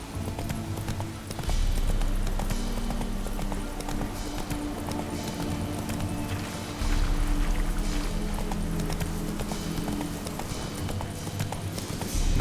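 Roach, a horse in The Witcher 3: Wild Hunt, gallops with a steady, loud run of hoof clip-clops over a low rumbling game soundscape, the hoofbeats carrying through the whole stretch.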